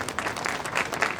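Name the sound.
audience applause at celebration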